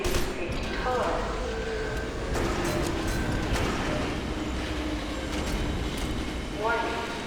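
A tram rolling along its track in the shooter game F.E.A.R. 2, a steady rumbling roll with metallic squeals rising and fading, beneath a synthetic warning announcement.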